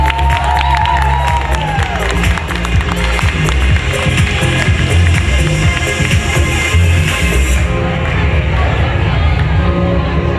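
A crowd cheers and applauds for a model at the APAE Fashion Dance 2018 charity fashion show, a loud, continuous wash of clapping and shouting with music underneath.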